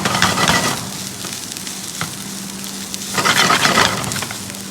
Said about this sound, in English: So let it be sauteed first, after that we will add sauce.